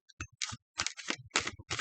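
Tarot cards shuffled by hand during a reading, giving close, brisk bursts of papery riffling and soft slaps in short irregular clusters, with no talk over them.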